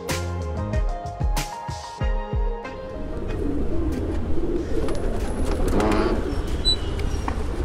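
A red pigeon from a flying-pigeon loft coos in low, rounded pulses close by, followed by a busier wash of bird sound and fluttering.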